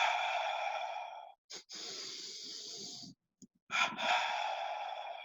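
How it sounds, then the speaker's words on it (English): Double breathing exercise: forceful hissing breaths through the nose in two long bursts separated by brief pauses and a short sniff, close and breathy with no speech. "doing simple double breathing."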